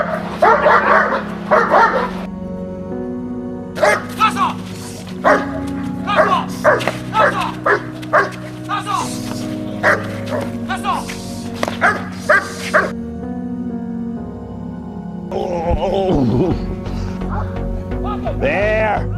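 A guard dog barks repeatedly during training, loud close yips and barks in bursts with brief whimpers between, while a handler talks at times.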